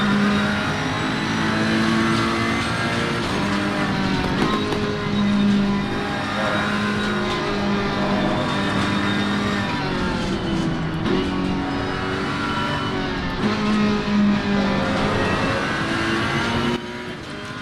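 Engines roar and rev continuously, several race cars in a video game droning together at a steady loud level with shifting pitch, heard through a gaming headset.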